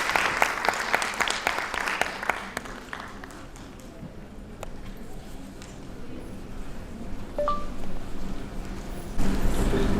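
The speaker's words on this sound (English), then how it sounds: "Can I have a round of applause for Miss Bains" An audience at an evening event about motherhood claps in a burst that thins to scattered claps, then rises again near the end.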